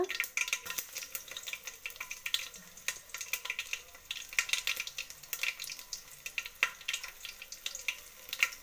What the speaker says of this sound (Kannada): ಎಣ್ಣೆ ಕಾದಿದೆ ಸಾಸಿವೆ ಹಾಕ್ಕೊಳ್ಳೋಣ ಇವಾಗ ಬೆಳ್ಳುಳ್ಳಿ ಹಾಕ್ಕೊಳ್ಳೋಣ